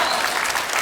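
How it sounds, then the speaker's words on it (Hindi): Dense, steady applause from a studio audience at a Hindi comedy talk show, loud and continuous for under a second with no voices on top. "आर्को के लिए जोरदार तालियां हो जाए"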